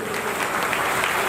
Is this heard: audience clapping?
yes